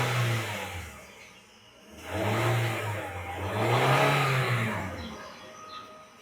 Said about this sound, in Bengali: আমি একটু স্টার্ট দিচ্ছি ইঞ্জিনটা, আপনারা জাস্ট সাউন্ডগুলো একটু শুনবেন